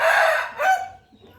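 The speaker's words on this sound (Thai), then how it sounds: "ไก่ชุดนี้นะครับ เป็นไก่พม่าทั้งหมดนะครับ" A young Burmese rooster gives one short, loud crow from close by, trailing off at the end.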